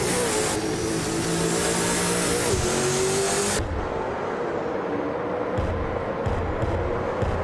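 V8 Supercars race cars in a racing video game roar and rev continuously, engine pitch shifting as cars accelerate and pass, loud and steady with no voices over it.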